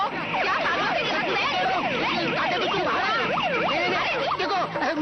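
A municipality vehicle's siren wails in rapid rising and falling sweeps as the vehicle arrives, loud and continuous throughout with a steady road rumble beneath it.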